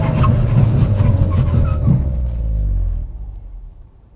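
A 2017 Nissan Sentra NISMO braking hard on a deserted road, a loud low rumble of tires and engine under a faint whining tone that winds down over about three seconds and settles into quiet.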